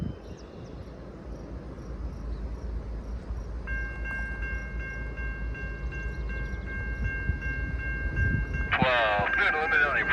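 A long freight train of 184 rail cars rumbles steadily past, its wheels clattering continuously, with a sustained tonal horn or wheel squeal partway through and a burst of radio chatter near the end.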